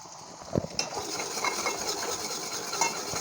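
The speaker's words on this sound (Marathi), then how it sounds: "कांदा छान फ्राय करून घेऊया" Onion frying in a pan for a Maharashtrian pea and boiled potato curry, with a spoon scraping and clinking against the pan in a few sharp taps over a steady soft sizzle.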